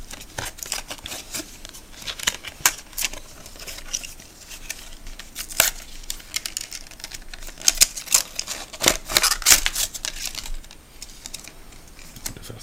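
A fire starter package is unwrapped up close, with a steady run of sharp crinkling and crackling clicks from the wrapper that swell in the middle. No one talks.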